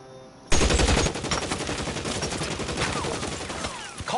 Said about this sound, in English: I start getting shot at, bro.